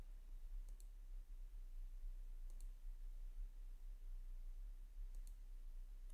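Computer mouse clicks in Excel, three faint, crisp double clicks spaced a couple of seconds apart over a low steady hum.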